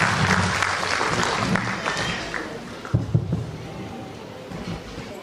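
Applause greets the chief guest, Colonel Dr. Baldev Singh, at a school function, a dense clapping wash with some voices and a few louder thumps, fading gradually.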